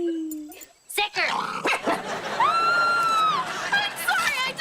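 Dog barking and whimpering in a comedy sketch, a few sharp barks and yips followed by a drawn-out whine, loud and close.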